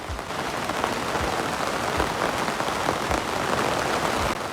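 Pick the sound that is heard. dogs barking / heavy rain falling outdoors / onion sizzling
heavy rain falling outdoors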